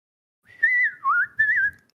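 A person whistles an imitation of a bird call, three short rising and falling tones in quick succession, close and clear against silence.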